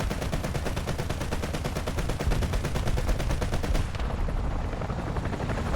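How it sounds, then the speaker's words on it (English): Coaxial machine gun on a French tank in War Thunder firing a rapid, sustained burst of loud shots, continuous for most of the span before tapering off near the end. "follow up by engaging him with our coaxial machine gun"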